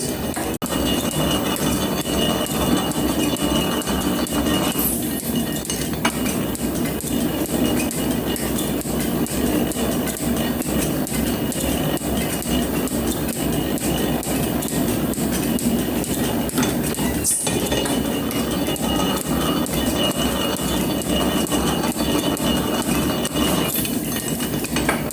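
A metal planer machines a second flat surface in a workshop, giving a steady, continuous mechanical clatter and metallic scraping that runs without a break. No one speaks.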